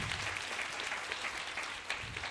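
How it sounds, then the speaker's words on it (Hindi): A church congregation at a Christmas party in Bhilai claps loudly and continuously, a dense crowd applause without a break. "जोर से ताली बजाकर हम प्रभु की महिमा करें।"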